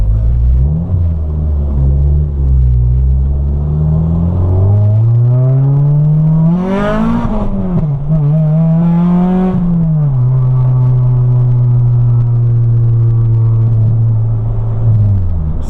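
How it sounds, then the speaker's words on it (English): An Acura Integra accelerates hard and spins its tires, the engine note rising loudly, dipping briefly near the middle, then holding a steady drone close by with no talk. "Spun the tires a little bit right there"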